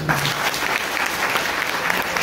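An audience at a network marketing training session in a hall in Mahoba applauds, a dense, steady burst of clapping filling the whole moment.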